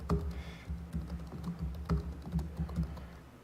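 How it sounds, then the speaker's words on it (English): Computer keyboard typing during a software development demonstration, a steady run of quick, clattering keystrokes with a few sharper key hits, close and fairly quiet, with no talk over it. "Horrible typing."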